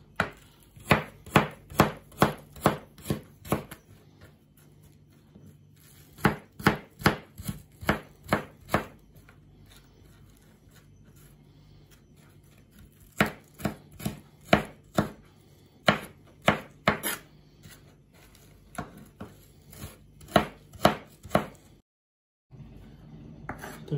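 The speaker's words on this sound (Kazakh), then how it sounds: "Ұсақтап төртпіштілеп тураймыз." Sweet pepper being finely diced with a knife on a board: quick, crisp chopping strokes in rapid bursts, separated by brief pauses, close and clear with no talking.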